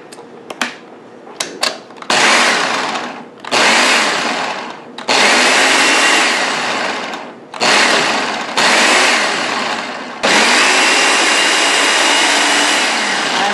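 A food processor chops cauliflower into rice. After a few brief taps it runs in loud, whirring bursts of a few seconds each, with short pauses between them and a longer steady run at the end.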